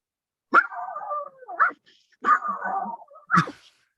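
A man imitates a pug barking with his voice, giving four short nasal bark-like yelps in two close pairs, loud and close against silence.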